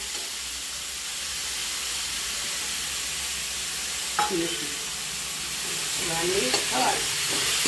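Green onion and fenugreek leaves frying in a pan for Gujarati kadhi, with a steady close hiss and sizzle broken by a few scraping stirs toward the end.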